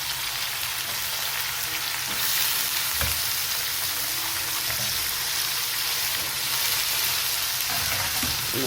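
Spices and bay leaves fry in hot oil in a home kitchen, giving a steady, close broadband sizzle throughout with a brief clatter near the middle and no talking.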